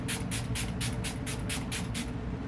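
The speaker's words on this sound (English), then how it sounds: "I'm just gonna put on some setting spray really quick. Make It Last Milani setting spray." Milani Make It Last setting spray misted onto a face in about nine quick, evenly spaced pumps, each a short airy hiss, close and fairly loud with no talking.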